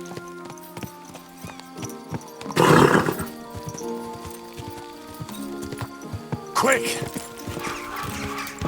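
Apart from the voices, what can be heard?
horse neighing and hooves, from a video game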